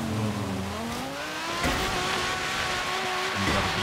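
A Lamborghini Sesto Elemento races in Forza Horizon 3, its engine droning loudly and steadily with rising and falling revs as it shifts, with no talk over it.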